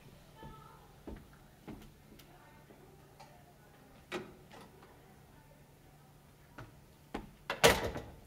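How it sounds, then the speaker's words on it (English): A door in a university lecture room swings shut with one loud, close thud near the end, after several soft, scattered clicks and knocks in an otherwise quiet room. "Is it possible for me to close this door?"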